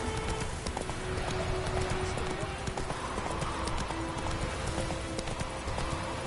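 Roach the horse gallops in The Witcher 3, fast drumming hoofbeats running continuously and loud, with a voice talking over the rhythm and tonal game sounds underneath.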